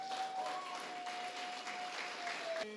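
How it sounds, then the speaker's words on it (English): Guests at a wedding reception applaud after a toast to the bride and groom, a steady round of clapping from a sizeable crowd that lasts a few seconds before cutting off. "let's have a huge round of applause for Kevin."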